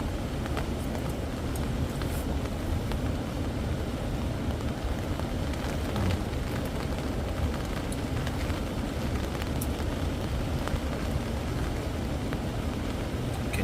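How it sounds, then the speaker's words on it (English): Steady rain falls during a storm at a riverside waterfall wild camp, a dense constant patter with scattered sharper drops, unbroken throughout. "Can you hear that rain?"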